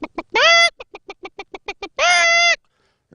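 A person imitates a hen: a run of short, clipped clucks broken by two longer, nasal squawks, loud and close with no other sound around.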